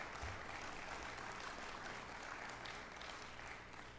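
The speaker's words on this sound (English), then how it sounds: "let's give them a round of applause for that." Steady applause from a large crowd at a baseball senior day ceremony, a dense wash of clapping that holds evenly for several seconds at a moderate distance.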